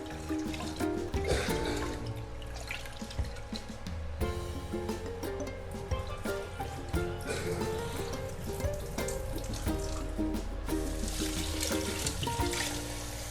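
Tap water runs and splashes continuously in a kitchen sink while something is washed, with uneven clatter and shifting flow close by throughout.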